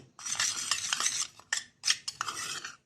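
Dry Rajgira puffs, roasted cumin, salt and powdered sugar for a fasting chivda being tossed together in a bowl, giving a close, crisp rustling and scraping in several bursts with short pauses.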